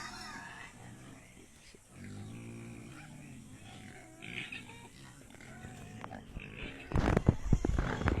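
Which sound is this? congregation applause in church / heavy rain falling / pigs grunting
pigs grunting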